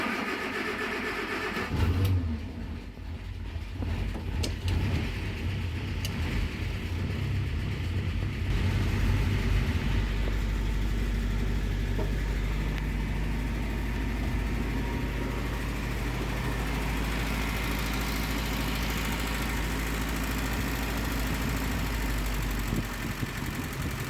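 A 1943 Ford GPW jeep engine, freshly repaired after engine block work, cranks, catches around two seconds in and then runs continuously, loud and close, settling into a steady rough idle with occasional revs.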